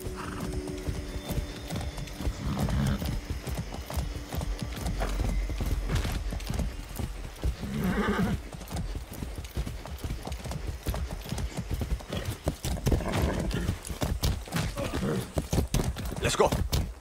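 Horse hooves clip-clop at a steady gallop rhythm in the video game Far Cry 6, close and loud, with an occasional neigh and mechanical clicks layered over ongoing background game sounds and some voices.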